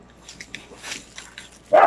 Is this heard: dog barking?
yes